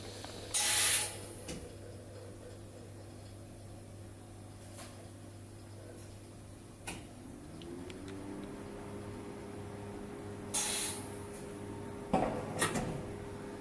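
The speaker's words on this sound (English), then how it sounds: "now we close the door again by pressing on the door button here" A large laboratory autoclave door sliding shut after its door button is pressed, heard as a few sharp mechanical clunks and a soft whir over a steady machine hum, with no voices.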